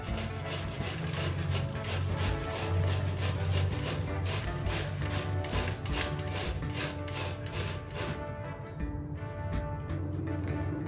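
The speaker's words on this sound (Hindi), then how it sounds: "अब हम सबसे पहले गोभी को कद्दूकस करेंगे।" Cauliflower being grated finely on a kitchen grater for gobi paratha: steady, rhythmic rasping strokes repeating close up for about ten seconds, then a brief quieter pause near the end.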